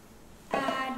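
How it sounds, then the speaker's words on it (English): Water poured into a pot of washed rice and lightly roasted moong dal for sweet pongal, a short steady splashing stream that starts abruptly halfway through after near silence. "Next add water."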